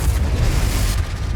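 Confringo spell explosion in Hogwarts Legacy combat, a loud, dense, rumbling blast that fills the short moment with heavy low booming and crackling debris.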